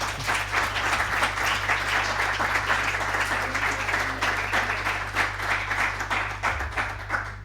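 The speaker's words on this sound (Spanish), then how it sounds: "Un aplauso." An audience at a conference session on deinstitutionalization bursts into sustained, dense applause that holds steady and loud for several seconds, with no voices over it.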